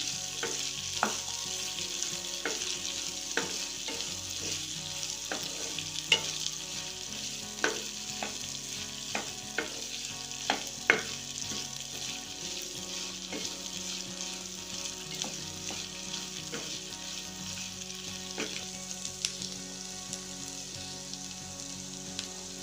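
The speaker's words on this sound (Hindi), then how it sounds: "कटी हुई हरी मिर्च डाल देंगे। अब इन्हें 1 मिनट भून लेंगे।" About 100 grams of chopped green chilies with mustard seeds fry in a pan for Rajasthani chili tipore, a continuous close sizzle scattered with frequent sharp crackles and spits, without any voices.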